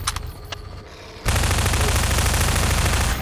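Sustained automatic gunfire in Garry's Mod: quieter scattered shots give way at once to a loud, dense, unbroken stream of rapid fire that holds steady to the end.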